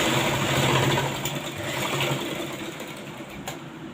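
Sewing machine steadily stitching tucks into the lining of a four-tuck blouse, a continuous close mechanical whir with a fast rhythmic patter and no talking.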